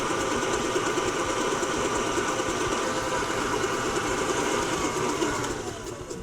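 An electric mixer creams butter, sugar and butter-flavored Crisco for molasses crinkle cookies, giving a steady, dense whirring drone that holds even throughout and eases slightly near the end.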